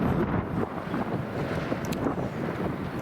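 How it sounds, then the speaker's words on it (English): Strong wind buffets an open garden plot in late December, a steady loud roar with heavy microphone rumble that continues throughout without any voices. "We're still getting some wind, as you can see by my flag. It's quite strong."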